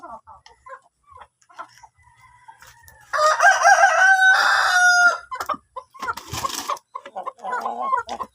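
Chickens at a farm cluck and chatter nearby during feeding, with a loud rooster crow breaking through in the middle and scattered squawks around it.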